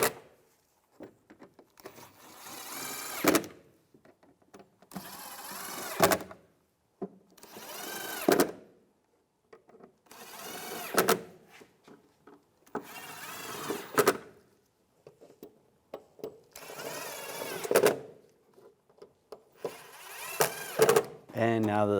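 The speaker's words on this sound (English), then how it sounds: "Now tighten all the screws." Power driver tightening screws during a rear shock install on a Cadillac Escalade, in short, close whirring bursts separated by pauses, repeated about eight times.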